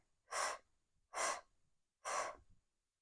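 Three deep diaphragmatic breaths, each a breathy rush of air lasting about half a second, come at an even rhythm with silent pauses between them, close and clear with no talking.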